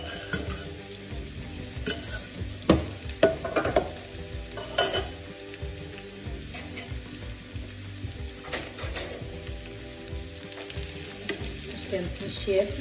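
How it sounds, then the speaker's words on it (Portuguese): Boiled potatoes sautéing in olive oil with garlic in a pan, a steady crackling sizzle with repeated clanks and scrapes of stirring at an irregular pace, close and continuous, no talk. "É só para apanharem mesmo o gosto do alho e do azeite."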